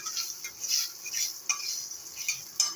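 Fried tempering of ginger, dry chili, bay leaf and cumin poured into mung dal gives a bright hiss and sizzle, with a few light metallic clinks of utensils against the pan.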